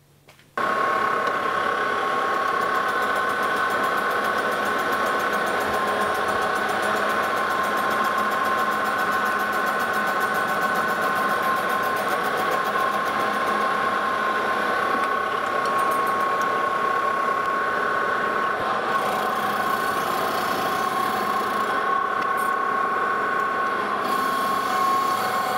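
A lathe skims a cast steel railroad wheel held in a three-jaw chuck, giving a steady, unbroken machine hum with a sustained whining tone that runs without pause for the whole stretch.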